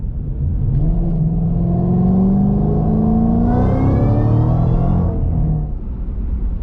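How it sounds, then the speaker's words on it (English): A Ford GT500 accelerates hard in a single-gear pull on a street, its engine roaring steadily upward in pitch for several seconds, loud and close, with a rising whine before the revs drop off. "I just did a 1-gear pull because I'm on the street, don't want to get too crazy"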